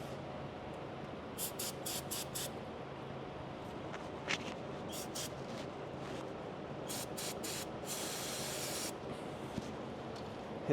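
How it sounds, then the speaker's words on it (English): Brake cleaner sprays onto the differential cover of a Ford 4x4 truck in several short bursts and one longer blast, hissing sharply over a quiet workshop background with no talking. "Now it's brake clean time."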